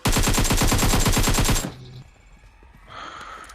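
Rapid automatic gunfire in PUBG Mobile: a loud, close burst of about fifteen evenly spaced shots over a second and a half, then an abrupt stop followed by faint game sounds.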